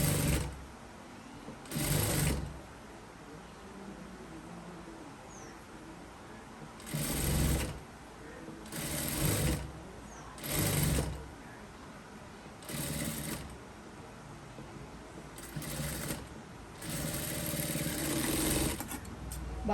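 A sewing machine runs in several short whirring bursts, stitching with steady mechanical chatter, separated by quiet pauses with faint background noise.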